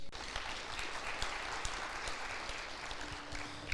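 Congregation applauding at the close of a church service, a steady, dense wash of many hands clapping that carries on evenly throughout without a break.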